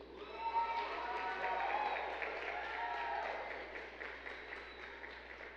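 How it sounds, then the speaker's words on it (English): A concert audience at a school spring choir and band concert applauds a student soloist after an award, with steady sustained clapping at moderate distance and some voices mixed in. "Please give a round of applause to Mr."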